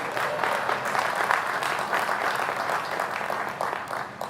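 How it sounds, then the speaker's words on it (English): Large audience applauding during the presidential commencement address at Morehouse College, a steady, even round of clapping heard from a distance without speech. "You can clap for him, he's a good man."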